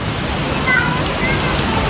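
Steady monsoon rain falls outdoors as a dense, even hiss that is loud and continuous, with a faint hint of voices in the background.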